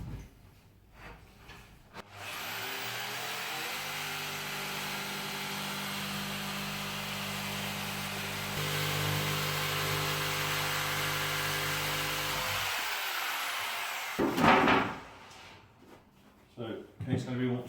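A jigsaw cuts a fitted wardrobe plinth in one sustained, steady buzzing run of about ten seconds, close and fairly quiet, with handling noises before and after.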